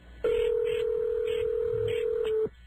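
A single sustained telephone tone sounds loud and close for about two seconds, then cuts off abruptly.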